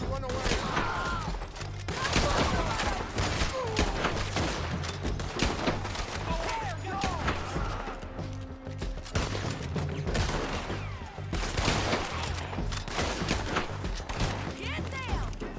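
Gunfight in Red Dead Redemption 2, with dense bursts of gunfire and shots layered under game music and shouted dialogue throughout.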